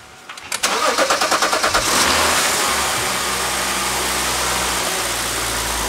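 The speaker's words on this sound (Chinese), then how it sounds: "我们现在就来试着发动哈，希望能够顺利。" Car engine cranking after a high-pressure fuel pump replacement: about a second of rapid rhythmic starter churning, then the engine catches with a loud flare of revs and settles into a steady close idle.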